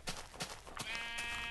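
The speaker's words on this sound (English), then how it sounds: "Ooh, there's a gray sheep." A Minecraft sheep bleats in a few short, breathy calls spaced apart, fairly faint, followed by a brief high-pitched tonal game sound.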